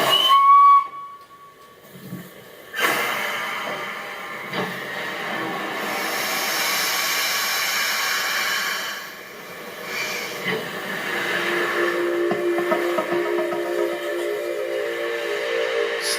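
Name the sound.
Steam locomotive Tornado releasing steam as it starts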